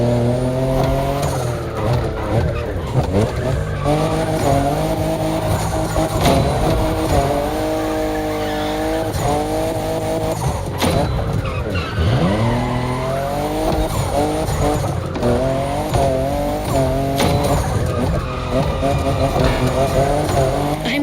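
A Toyota Supra, fifth generation, drifts through a mountain touge run in The Crew Motorfest, engine note rising and falling steadily for the whole stretch, with tire squeal under a continuous drifting song.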